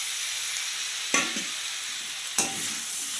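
Perandai with coconut pieces sautéing in a pan: a soft, steady sizzle with two distinct stirring scrapes spaced about a second apart, close and quiet, no voices.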